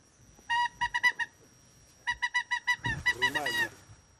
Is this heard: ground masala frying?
no